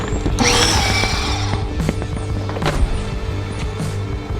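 A Greenworks 1800 PSI electric power washer sprays steadily up close, its hissing water jet and motor whine running without a break, with a few sharp knocks and clatters scattered through it.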